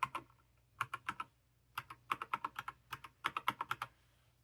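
Quiet, close keystrokes on a computer keyboard as a Wi-Fi password is entered while setting up a Raspberry Pi Zero 2 W, coming in short rapid bursts separated by brief pauses, with no voices.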